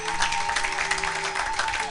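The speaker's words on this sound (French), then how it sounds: "Acclamez pour la gloire de notre Dieu" A church congregation applauds during worship, a steady dense clapping that fills the whole moment without break, with faint voices mixed in and a hum beneath.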